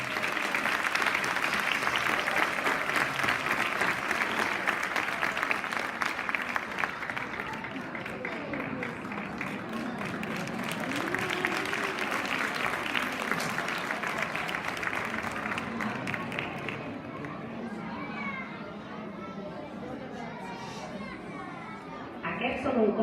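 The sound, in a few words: applause at school ceremony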